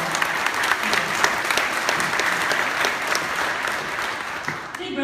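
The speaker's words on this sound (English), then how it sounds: "you can clap for" Audience applauding at an event on Guam, steady dense clapping from a crowd, loud and continuous for several seconds before tapering near the end.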